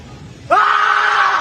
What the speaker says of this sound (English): all you gotta do is scream. as loud as I can